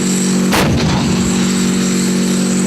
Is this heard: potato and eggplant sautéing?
no